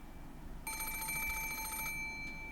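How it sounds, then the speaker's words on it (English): An antique extension telephone on a table in a study rings with a single sharp, rattling metallic bell burst lasting about a second, clear and close in an otherwise quiet room. "suddenly the piercing sound of a phone rang through the room"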